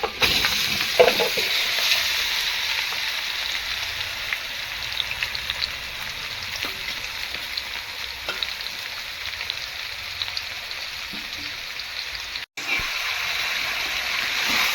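Country chicken frying in oil with onions for a curry, stirred with a ladle: a continuous bright sizzle with scraping stirs throughout, one brief break near the end, close and alone.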